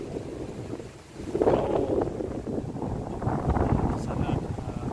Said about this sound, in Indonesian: Anginnya ngebes.